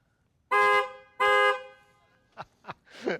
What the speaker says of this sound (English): We can honk the horn.